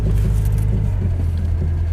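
A classic car with an automatic gearbox pulls away across a field at a classic car festival, its engine a steady, close low rumble throughout with no voices.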